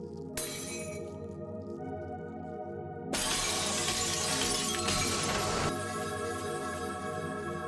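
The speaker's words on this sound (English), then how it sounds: "Multiple lights breaking." Multiple lights shatter in the anime Sanda, a sharp glass-breaking burst near the start, then a louder crashing spray of shards with lingering tinkling debris over a steady background hum, without talk.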